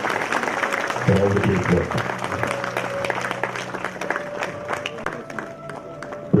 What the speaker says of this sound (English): give our round of applause